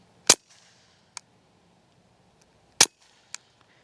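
A Taurus pistol fires standard velocity and subsonic rounds into dirt outdoors: two sharp loud shots about two and a half seconds apart, each followed a moment later by a fainter crack of impact, with quiet in between.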